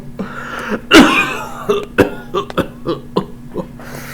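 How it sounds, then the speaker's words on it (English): A loud, harsh cough bursts out, followed by a string of smaller hacking coughs and throat sounds over the next few seconds. "How long have you had that cough?"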